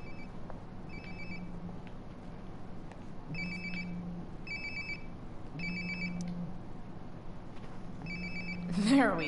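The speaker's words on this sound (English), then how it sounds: "Sounds like my phone is definitely nearby." A phone rings nearby in Life is Strange: Before the Storm, sounding four or five repeated ring bursts at a regular pace over a low ambient hum, followed by a brief louder rustle at the end.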